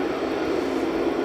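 A Qatar Airways Boeing 787-9 jet at Edinburgh Airport gives a steady, loud engine roar, a short continuous rumble with no talk.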